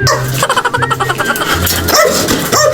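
A dog barks and yips in quick, uneven bursts, fairly close and loud, with a bit of whining between the barks.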